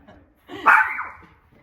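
A young schnauzer or schnoodle puppy lets out one short, close bark in an otherwise quiet room, with faint murmurs before and after.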